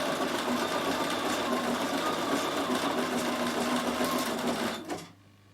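A Bernina 7 series sewing machine with an embroidery unit stitches rapidly with a steady, busy mechanical whir, then winds down and stops abruptly when its thread breaks, leaving a quiet low hum.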